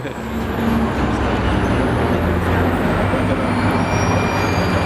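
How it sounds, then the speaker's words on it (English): A bus rumbles past at close range with a steady, loud engine drone and road noise, holding an even level throughout with no voices. "as we let the bus pass"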